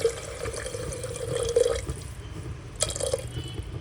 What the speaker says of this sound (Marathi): आता आपल्याला जेवढं लागतंय तेवढंच पाणी टाकायचं आहे।